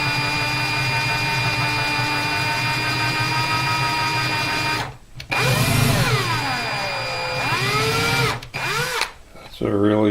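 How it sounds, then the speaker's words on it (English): Electric drill boring out old glue from a Gibson J-40 acoustic guitar bridge, a loud steady whine with shifting pitch that briefly stops and restarts twice near the end, heard close up with no talking. "I'm still drilling glue."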